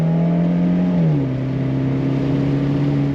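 A 2020 Fiat 124 Spider Urbana Edition engine revs up steadily and then holds at a higher pitch, a close, loud, continuous mechanical drone with no one talking.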